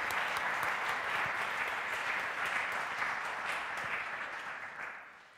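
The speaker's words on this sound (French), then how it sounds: "je vous demande d'applaudir quand même nos vice-présidents" A conference audience at an annual association meeting gives sustained applause for its vice-presidents, dense steady clapping that fades out toward the end.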